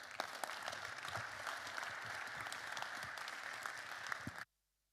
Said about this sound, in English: Please put a round of applause